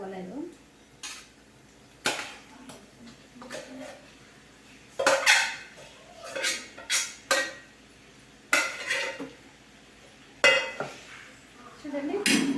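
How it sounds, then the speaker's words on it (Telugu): Pasta stirred into masala in a metal pan: a spoon scrapes and clanks against the pan in irregular bursts, with faint sizzling between strokes and some quiet talk in the background. "ఇప్పుడు పాస్తా అంతా మసాలాకి పట్టేటట్టు కలుపుకోవాలి"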